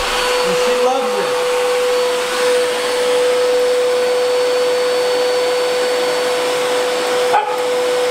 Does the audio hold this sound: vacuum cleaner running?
yes